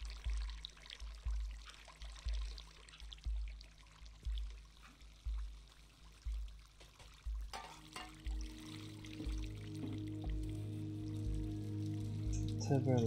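In the Stray video game, water pours in rhythmic gushing pulses for several seconds before a louder steady tonal sound rises over it and largely masks the flow.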